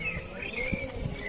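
Bees buzz steadily close by in a garden in Szeged, Hungary, a thin continuous hum with a few louder swells.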